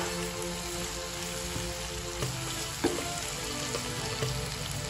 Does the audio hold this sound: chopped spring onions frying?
yes